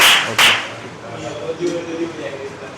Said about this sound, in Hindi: इनके लिए तालियां बजाओ, बजाओ तालियां